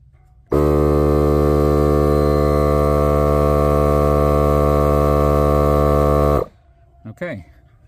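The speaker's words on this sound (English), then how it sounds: "Just attach your air compressor." A small air compressor fills a shock-absorbing trailer hitch with a loud, steady electric hum that starts abruptly and runs for about six seconds, then cuts off and is followed by a brief rustle.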